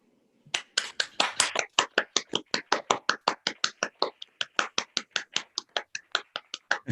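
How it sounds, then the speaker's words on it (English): A steady run of hand claps, about thirty sharp, evenly spaced claps, loud and close, with no talking. "Okay, now you can hear my clapping."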